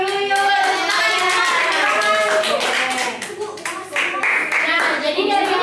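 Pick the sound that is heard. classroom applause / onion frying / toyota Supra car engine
classroom applause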